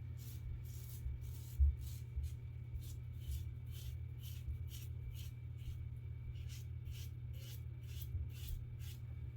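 A Feather AS-D2 razor scrapes across facial stubble in quick repeated strokes, a rhythmic raspy sound over a low steady hum, close and fairly quiet.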